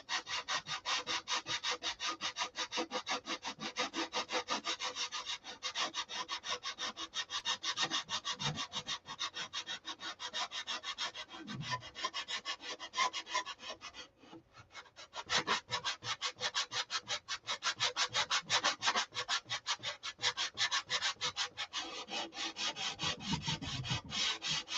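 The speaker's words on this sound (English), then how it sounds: "I'm holding the sanding bar off the rib." Continuous rasping rub of a sanding bar worked back and forth over balsa-style wooden ribs and trailing edge of a Viper model aircraft, close and steady with a brief pause midway and no talking.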